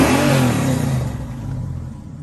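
Engine of a 1981 Chevrolet Camaro with a newly installed flywheel and starter, heard in cold weather: a loud, close rev that peaks at the start and then falls back toward a lower, rumbling idle.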